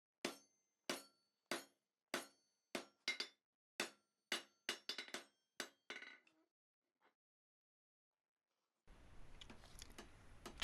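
Hammer half-face blows on flat steel bar at an anvil while forging light-duty V-bit tongs: about fifteen sharp, ringing metallic strikes in a steady rhythm, close and loud, then a pause before a soft rustling noise.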